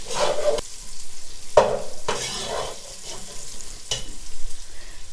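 Onions lightly frying in a pan for Kabuli pulao, stirred in several bursts: scraping stirs over a steady low sizzle, each stroke loud and close, with short quieter gaps between them.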